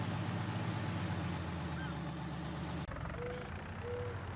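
A John Deere 4020 tractor engine in Farming Simulator 19 runs at a loud, steady idle throughout, with a brief click partway in and faint beeping tones afterward.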